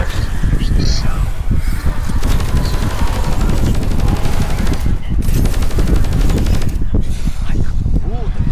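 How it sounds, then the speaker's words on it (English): Rapid automatic gunfire from an axe weapon in a zombie video game, dense loud bursts rattling almost continuously with brief gaps. "Another thing I like about the axe is the sound."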